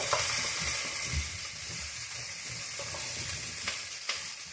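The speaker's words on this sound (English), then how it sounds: "I'm going to brown these, just like I did the eggplant" Chopped squash frying and browning over medium to medium-high heat in a pan for ratatouille, a steady close sizzle and crackle with a few brief scraping stirs and no talk.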